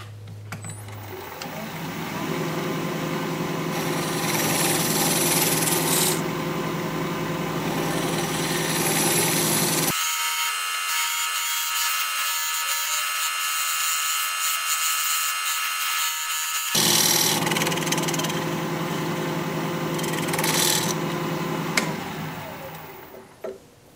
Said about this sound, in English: Now I'm going to use my dovetail recess tool to create the dovetail on the side of that